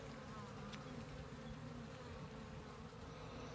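Bees buzz in a dense, steady drone during an inspection of an open hive, a continuous swarm sound close by with no speech over it.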